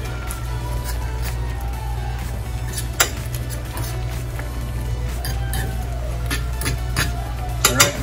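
A bubbling pot of Jamaican pepper crawfish curry being stirred, with a spoon clinking and scraping against the pot in irregular taps over a low steady background hum.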